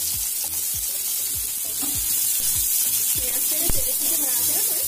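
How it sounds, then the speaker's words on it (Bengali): Finely chopped onion, one large one, fries in oil with a dense, continuous hiss, broken by soft scraping strokes of a stirring spoon, loud and close. "এবার ওই তেলের মধ্যে দিয়ে দেব পেঁয়াজ।"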